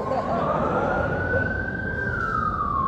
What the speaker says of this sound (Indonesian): Bukan pakai ambulan, pakai sirine.